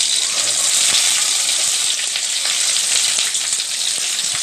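Hot oil sizzles and crackles steadily in a pan while cooking pudina rice, a close, continuous hiss with faint scattered pops throughout.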